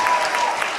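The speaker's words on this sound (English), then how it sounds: "I don't deserve to be applauded." Comedy club audience applauding at a stand-up show, a short steady wash of clapping heard alone.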